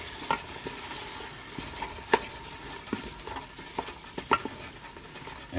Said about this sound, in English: I'm going to stir that up in